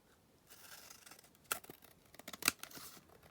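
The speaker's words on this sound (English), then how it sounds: "So I just need to trim this edge down" Scissors trimming the edge of a paper Christmas accordion folio: two crisp, close snips about a second apart among soft, quiet paper rustling.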